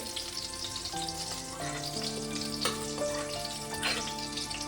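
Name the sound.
mushrooms frying lightly in a pan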